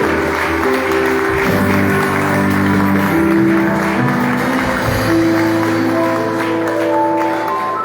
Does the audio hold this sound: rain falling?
no